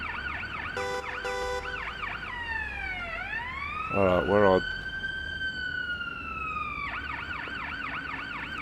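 An ambulance siren in the game Ambulance Life: A Paramedic Simulator cycles loudly through a rapid yelp, then a long sweeping wail, then back to the yelp. A short voice cuts in near the start, and a burst of horn-like tones sounds midway.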